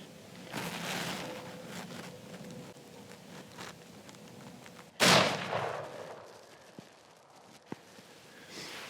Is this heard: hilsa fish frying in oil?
no